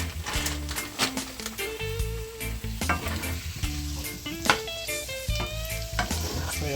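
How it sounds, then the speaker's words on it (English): Meatballs frying in hot oil in a pot, a constant close sizzle and crackle broken by clinks and scrapes of stirring, with short tonal beeps or music in the background. "I'm gonna fry up the meatballs for maybe 2 minutes in the oil"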